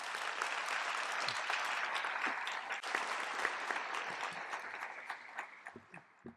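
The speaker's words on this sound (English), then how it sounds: "let's give Assistant Chief Burns a round of applause" Applause from the audience at a volunteer and high school cadet graduation honouring Assistant Chief Burns, a full, steady round of clapping that gradually thins into scattered last claps.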